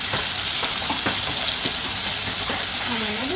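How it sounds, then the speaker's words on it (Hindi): Chicken fries in a pan for homemade zinger shawarma, a loud, continuous, close-up sizzle with light scraping and stirring clatter throughout. "फ्राई करते हैं हम। फ्राई हो रहा है जी चिकन,"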